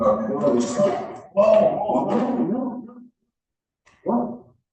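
A dog barks and whines in a couple of long, loud, close bursts, followed by a short final yip after a pause.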